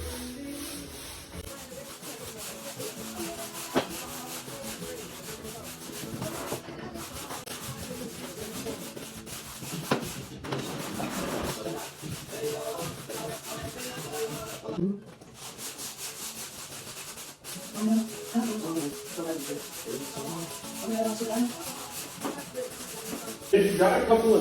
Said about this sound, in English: if you just hear that brush go over the spots, you're getting all of that black stuff up